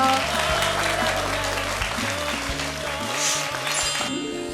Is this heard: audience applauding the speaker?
yes